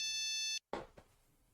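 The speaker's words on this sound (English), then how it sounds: "I'm getting a call on my comically large phone" A phone ringtone chimes in a Brawl Stars game setting, a bright electronic tone holding steady for about half a second before cutting off, followed by a couple of soft clicks and quiet.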